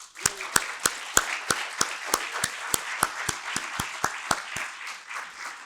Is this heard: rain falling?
no